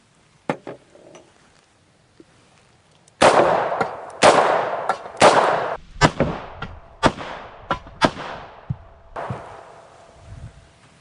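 .44 Special revolver firing semi-wadcutter lead bullets at a bowling pin and gel: a series of about eight loud, sharp gunshots with ringing decays, irregularly spaced, following a couple of faint clicks.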